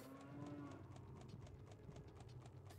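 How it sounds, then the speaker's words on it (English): Cows mooing in The Legend of Zelda: Ocarina of Time Master Quest, a low lowing call over a soft game backdrop with repeated light hoof-like clip-clops, faint and steady throughout. "Oh my god, there's so many cows in here."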